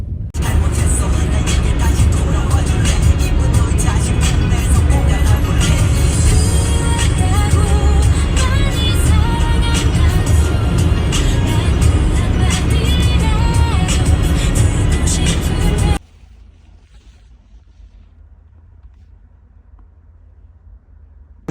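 Steady road traffic outside an exam venue where many cars are pulling in and parking, a dense continuous rumble of passing vehicles with no talk that cuts off abruptly to near silence.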